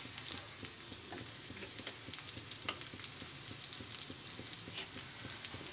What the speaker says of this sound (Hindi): तो देखो आम हल्का फ्राई हो सारा, पूरा ब्राउन कलर हल्का हो सारा